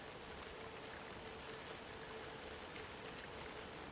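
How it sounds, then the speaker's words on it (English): Steady rain falling in the video game Alan Wake 2, a dense, even hiss of drops that holds constant throughout with no voices. "Getting more rainy."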